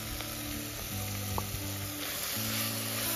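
Marinated raw jackfruit hits a hot pan for jackfruit biryani, giving a steady, close, continuous sizzle with light stirring and no talk.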